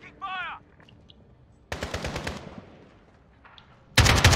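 Automatic weapon fire in Call of Duty Modern Warfare, a short rattling burst midway followed by a louder burst at the end, with brief game sounds in between.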